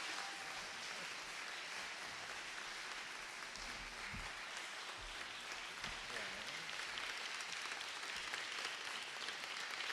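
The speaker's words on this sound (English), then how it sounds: "please give them a round of applause" Audience applause at a Melrose Democratic mayoral candidates forum: steady, dense clapping that fills the room for about ten seconds at an even moderate level, with no talk over it.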